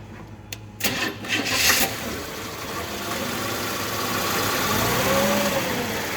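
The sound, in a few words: engine firing up on transmission dyno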